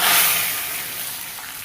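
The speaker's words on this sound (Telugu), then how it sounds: "ఇలా ఫ్రై చేసుకున్న దాన్ని మనం సాంబార్లో వేసుకోండి" A tempering for Andhra-style sambar fries in a pan with a loud, close, hissing sizzle that peaks at the start and then settles into a steady crackling hiss, with no talking.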